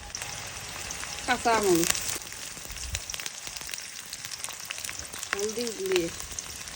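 Taro frying in oil with onion, bay leaf and garlic paste for a fish and taro curry, a steady soft sizzle running throughout while a person talks over it in short phrases.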